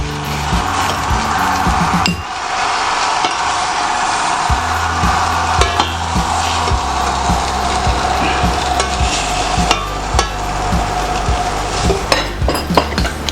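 Butternut being mashed and stirred in a bowl, with a steady background sizzle and clatter of utensils against the dish, close and fairly loud, irregular taps throughout.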